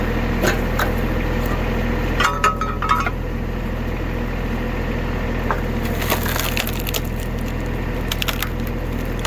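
A tractor-mounted wedge splits wood with sharp cracking and splintering bursts, one around the middle and a louder cluster later, over the steady drone of a New Holland Boomer TC25D tractor engine.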